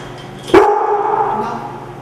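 A Bernese mountain dog and Labrador cross gives one loud, close bark that trails into a sustained whining tone, heard alone.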